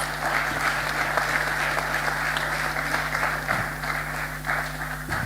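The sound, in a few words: audience applause at conference closing ceremony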